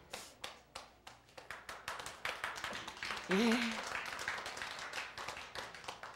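An audience at a church Bible group gathering claps rhythmically in steady, evenly spaced beats to welcome a speaker, with a brief voice cutting in partway through.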